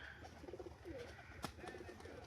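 Pigeons cooing softly in a few short, rolling phrases, faint and a little distant, with a brief sharp knock partway through.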